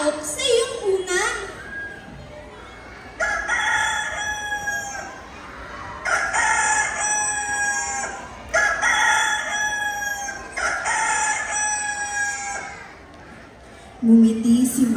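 A grandfather's rooster crows loudly and close several times in a row, each long call rising and falling, with a voice speaking briefly at the start and end.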